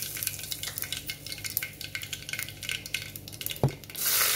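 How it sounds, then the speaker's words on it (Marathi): Mustard seeds and cumin tempering in hot oil for a sprouted matki usal give a steady, close crackling sizzle with scattered pops and a few pan or utensil knocks, ending in a louder hiss. "आता आपली फोडणी तळतळली"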